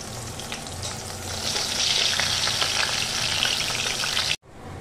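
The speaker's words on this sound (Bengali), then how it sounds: "বন্ধুরা, এবার আমি একে একে মাছগুলোকে সাঁতলে নিচ্ছি" Pabda fish fry in a pan with a loud, steady sizzle and crackle and a few light stirring scrapes, then the sound cuts off abruptly near the end.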